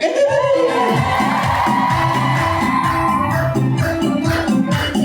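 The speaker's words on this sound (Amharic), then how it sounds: "እልል በል እስኪ።" A crowd ululates and cheers in celebration at a church prayer gathering, with loud, sustained trilling whoops and shouts that run continuously throughout.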